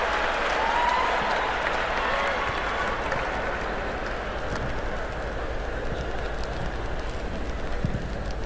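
Comedy show audience breaks into sustained applause, a steady, dense wash of many hands clapping, strongest at the start and holding fairly even to the end.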